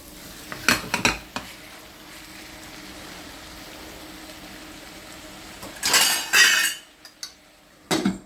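Half a kilo of mutton for gongura mutton being stirred in a pan, scraping clinks of a metal spoon in short bursts with a quiet sizzle between them, close and without speech.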